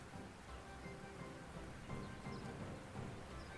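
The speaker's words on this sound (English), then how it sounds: "It's also that I play rain sounds." A faint recording of steady rain plays continuously as a relaxing background, a soft broadband hiss with low rumbling swells.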